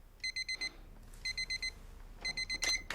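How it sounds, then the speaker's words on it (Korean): An alarm clock rings in the morning with bright electronic beeps in quick groups of four, repeating three times with brief pauses between, fairly close and clear. "모두가 싫어하는 알람 소리로 하루를 시작하는 주인공."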